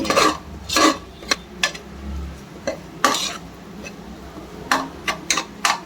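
Ingredients being sautéed and stirred in a pan for a mutton head curry, with repeated sharp scrapes and clinks of a spatula against the metal pan in an uneven rhythm, close and fairly loud.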